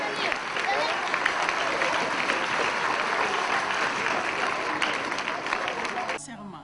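An audience at a UNICEF 71st anniversary ceremony applauds children, with sustained dense clapping from a crowd that fills the hall before cutting off abruptly.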